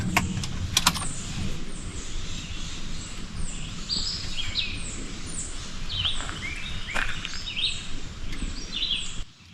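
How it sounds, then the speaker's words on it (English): Acadian flycatcher calling in a wooded outdoor spot, brief sharp chirps repeating through steady background noise, with fainter birdsong and rustling around it. "An Acadia flycatcher."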